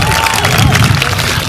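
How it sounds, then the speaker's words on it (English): A graduating class and audience at the LACES 2025 graduation cheer and clap loudly, with whoops and shouts over dense, steady crowd noise close by. "Round of applause there."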